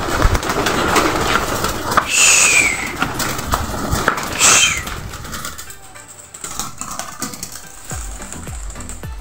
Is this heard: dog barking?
no